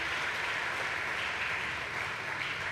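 Audience applause at the Eswaramma Puraskara award ceremony in Sai Ramesh Hall, Brindavan Ashram, Whitefield: a dense, continuous wash of many hands clapping together, even and sustained with no clear individual claps.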